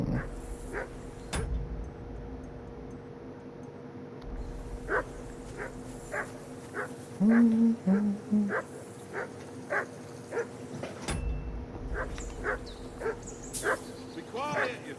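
A dog barks again and again at a riverbank camp in the video game Kingdom Come: Deliverance II. The sharp barks come about once a second over a low, steady outdoor ambience.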